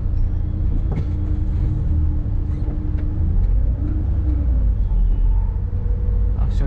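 Heavy road traffic crawls along around a slow-moving car, a constant loud low rumble of engines close by with faint scattered horn-like tones and no talk.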